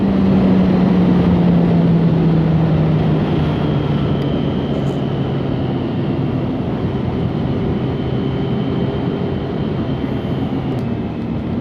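A motorcycle rides along a bumpy road, its engine a steady loud drone with wind rushing over it the whole way and a slowly falling engine tone as it eases off, with no voices.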